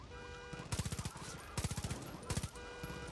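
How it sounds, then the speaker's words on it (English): Gunfire from soldiers in Far Cry 5, a zombie game mode: two bursts of automatic fire that crackle over a busy game soundscape, with a shorter third burst near the end. "Oh, the soldiers are shooting at all of us, huh?"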